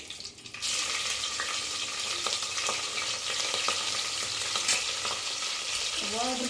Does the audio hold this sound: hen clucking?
no